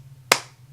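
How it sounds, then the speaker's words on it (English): A single sharp hand clap rings out close and loud against a quiet background, with a short decaying tail. "me clapping"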